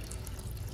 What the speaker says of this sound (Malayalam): അപ്പൊ നമ്മൾ കുറച്ച് ചൂടുവെള്ളം ഒഴിക്കണേക്ക്